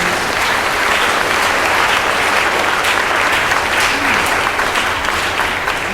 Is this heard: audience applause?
yes